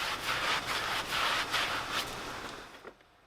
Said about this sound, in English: moved on to scrubbing the tyres with a soft bristled general purpose Vikan brush to ensure they were acceptably clean